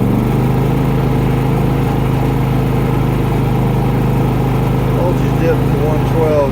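A Harbor Freight 3500 generator runs under an applied electrical load, a loud, close, steady engine drone that holds level throughout while a voice speaks over it.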